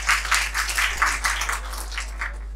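An audience at an Urdu poetry gathering claps in a quick, steady rhythm, a run of evenly spaced crisp claps over a low electrical hum, with no talking.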